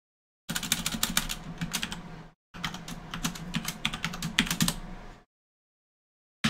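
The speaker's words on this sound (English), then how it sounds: "Just type in the password for this account." A computer keyboard is being typed on to enter a password in an Ubuntu terminal, giving two close bursts of quick, irregular key clicks separated by a short pause, with no voices.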